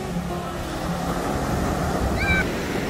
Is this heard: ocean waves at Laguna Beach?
yes